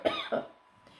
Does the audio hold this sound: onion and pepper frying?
no